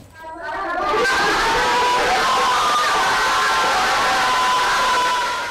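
Schoolchildren cheer and shout together in a classroom, a loud, sustained burst of young voices that swells quickly after a brief quiet start and holds steady for several seconds.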